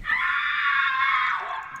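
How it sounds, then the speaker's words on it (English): A single sustained high-pitched scream rings out loud and close in the game Garry's Mod, holding steady for nearly two seconds before trailing off. "Scream."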